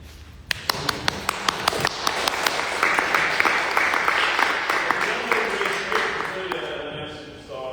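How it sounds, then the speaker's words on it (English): A crowd applauding, sharp claps at first building into a dense, steady wave of clapping that carries on for several seconds. "you've already gotten multiple applause"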